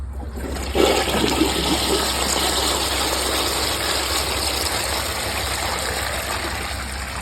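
A 2000s Mansfield Alto toilet on a mid tank flushes: after a quiet start it breaks into a loud, steady rushing roar of water that keeps going to the end.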